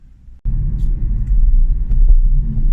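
A Hyundai Kona Electric cruising along Norfolk country roads, a loud, steady low rumble of tyres and road noise inside the car that starts abruptly and carries on unbroken.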